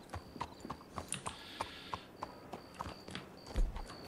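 Horse hooves clip-clop at a steady walking pace in the Red Dead Online video game, a series of light, fairly close hoofbeats heard alone with no talking over them.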